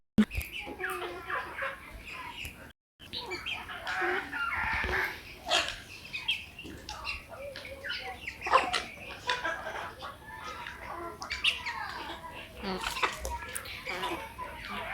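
Farm chickens clucking in a poultry shed, scattered calls and fowl chatter rising and falling close by throughout, with other birds or animals faintly mixed in.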